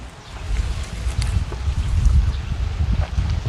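Wind blows outdoors in a cool open setting, buffeting the microphone with low, gusty rumbles that rise and fall steadily across the moment, with no voices.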